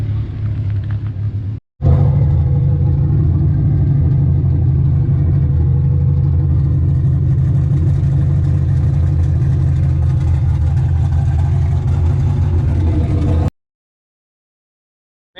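A Honda K24 four-cylinder engine runs on a dyno, producing a steady, loud, close mechanical rumble that holds nearly constant for about twelve seconds after a brief cut near the start, then stops abruptly.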